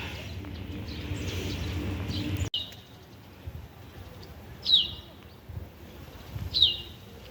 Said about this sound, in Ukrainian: Ой, цей спів пташок просто зачаровує.